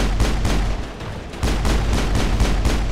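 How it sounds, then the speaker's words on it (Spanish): Dense, continuous gunfire and explosive blasts from a Mass Effect 1 firefight, loud and rapid with overlapping booms throughout, no talking. "el resto de gente estúpida que está disparando cohetes y mierdas de esas"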